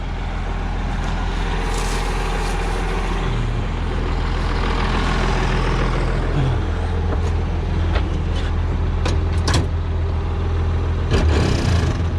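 A vehicle pulling a hay baler on a swampy hay field reverses quickly and then brakes hard, with a loud, steady low engine rumble throughout and a few sharp mechanical clanks and hisses near the end.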